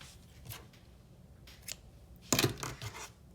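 Scissors snip through crochet yarn in one crisp, close cut, after a few faint rustles and handling sounds.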